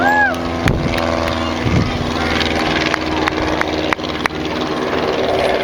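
A propeller aircraft flies close overhead at a historic fort, its steady loud drone with tonal engine hum filling the scene while a commentator's voice and nearby clatter sound over it.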